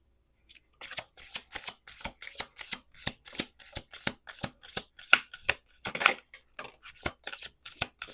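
Tarot cards are shuffled in a quiet room with a steady run of crisp riffling and flicking bursts, close and fairly soft, with no talking.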